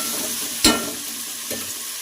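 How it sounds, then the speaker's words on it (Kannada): Onions and vegetables frying in a pan for veg pulao: a continuous soft sizzle broken by two quick scraping stirs, the first louder, close and without speech. "ನೋಡಿ, ಒಂದು ಸ್ವಲ್ಪ ಫ್ರೈ ಮಾಡ್ಕೊತಾ ಇದ್ದೀನಿ"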